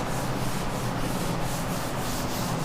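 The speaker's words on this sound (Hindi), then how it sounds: "सो मैं इसको रब कर रही हूँ।" A duster rubs writing off a board in a classroom lesson, a continuous close scrubbing swish that pulses gently with each stroke and has no voice over it.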